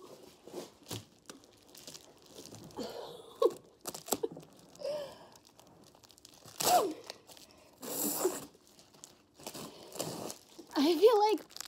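Sticky cat training tape peeled off furniture in a few bursts of ripping and crinkling, with someone talking and exclaiming between the pulls.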